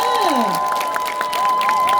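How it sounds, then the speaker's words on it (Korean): An outdoor crowd at an open campus concert at Yonam College in Jinju applauds the college's students, scattered claps and cheers under a sustained electronic tone and sweeping pitch glides. "우리 연안공대 학생들을 위해서도 박수 한번 부탁드리겠습니다"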